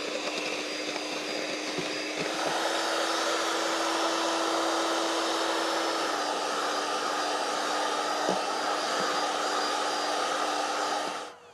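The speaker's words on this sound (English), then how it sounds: "Put the mixer up on full speed." An electric mixer running at full speed beating eggs outdoors in the bush, powered through an inverter, giving a loud steady motor whine with a faint rattling tone that stays even for about eleven seconds before cutting off.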